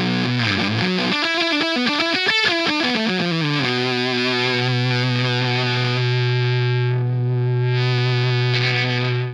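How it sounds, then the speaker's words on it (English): Fuzzy electric guitar through an Earthquaker Park Fuzz Sound pedal, a quick run of sliding notes and bends settling into a long sustained buzzing chord, loud and close with no talking. "Moving on to the second fuzz, I have the Park Fuzz Sound by Earthquaker."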